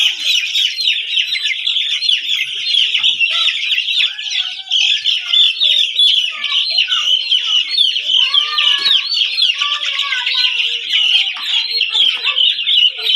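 Sonali chickens cluck and chatter continuously while their beaks are trimmed on a farm, a dense, close flock with overlapping calls throughout and no voices.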